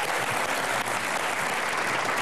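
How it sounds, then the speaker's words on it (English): Studio audience at a daytime talk show applauding for a guest, a dense, steady wash of clapping that stays loud and even for the whole stretch with no talk. "Big round of applause for Andrew."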